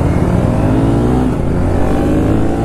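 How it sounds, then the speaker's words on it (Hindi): A Royal Enfield Continental GT650 fitted with an Akrapovic custom exhaust revs hard, giving a loud, continuous, throaty engine roar that holds high and steady, close by, with no talking. "RPM तक जा रही है, एक्रापोविच कस्टम एग्जॉस्ट।"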